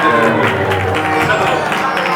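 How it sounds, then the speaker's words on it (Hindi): Audience at a Ram Katha religious gathering clapping together, a dense, loud, steady patter of applause with crowd murmur throughout. "ताली बजा दो सभी। ताली बजाने सभी महाराज।"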